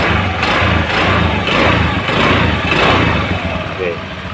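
The engine of an automatic scooter motorcycle keeps idling nearby with a steady rumbling putter while someone talks over it.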